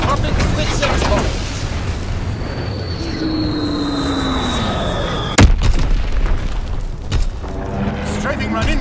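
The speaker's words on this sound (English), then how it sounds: "Enemy strafing run incoming! Get to cover!" A WW2 combat video game enemy aircraft strafing run: a descending engine whine sweeps overhead, then a sharp explosive crack and rumbling blasts follow amid dense battle noise, with voices shouting underneath.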